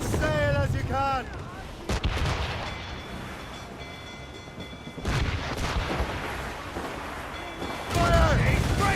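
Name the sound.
ship cannons firing in the video game Assassin's Creed Rogue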